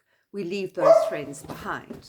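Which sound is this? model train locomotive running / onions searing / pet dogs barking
pet dogs barking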